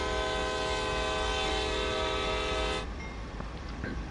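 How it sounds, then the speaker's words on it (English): A CSX C40-8W locomotive horn in Train Sim World 2 blares as one loud, steady chord for nearly three seconds, then cuts off, leaving the low rumble of the engine. "I'll honk the horn this time."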